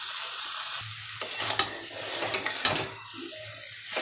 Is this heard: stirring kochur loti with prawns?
yes